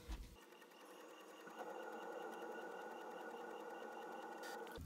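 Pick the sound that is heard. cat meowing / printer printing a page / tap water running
printer printing a page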